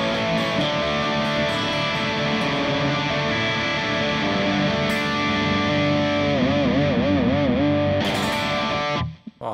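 High-gain distorted electric guitar played through the Overloud THU amp and effects simulator with a noise gate pedal, sustained chords and ringing notes loud and continuous throughout, a brief warbling bend near the end before it cuts off abruptly.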